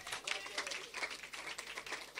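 A church congregation claps and applauds in a steady patter of many hands, fairly close and sustained, with voices mixed through it.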